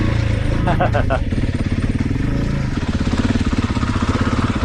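Husky 701 dirt bike engine revving steadily and loudly while riding through a creek bed, the single-cylinder thump continuous and close throughout.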